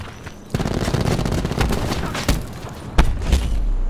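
Rapid bursts of gunfire and booming explosions from a Call of Duty match, loud and dense, with a heavy blast near the end.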